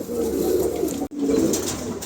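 Close, low pigeon cooing runs in two rolling bursts split by a sudden brief cut of silence, with no talking.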